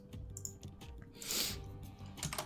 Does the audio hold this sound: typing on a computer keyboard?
yes